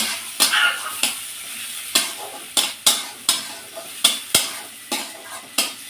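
Chopped onions sizzle in hot oil in a pan, with sharp, regular stirring scrapes and clinks about every half second, close and loud, with no voices.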